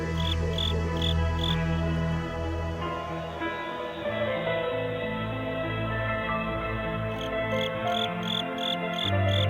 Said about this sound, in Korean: 초가을 귀뚜라미 가을을 재촉한다